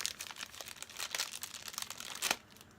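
A plastic bag holding a six-arm fidget spinner with large ball bearings crinkles close up, with irregular crackling bursts that peak toward the end and then fade, and no voices.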